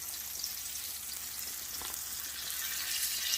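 Cheese and spinach stuffed chicken sears in a hot pan with a steady, close hiss of oil, and a brief stirring or shifting noise comes partway through.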